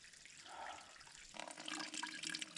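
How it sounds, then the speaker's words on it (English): A small trickle of water runs faintly on a mountain backpacking loop, a soft splashing that grows a little busier halfway through. "little trickle of water"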